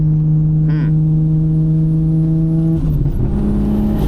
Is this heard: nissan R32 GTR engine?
yes